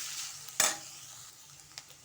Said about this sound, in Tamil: நல்லா வதக்கிடலாம்.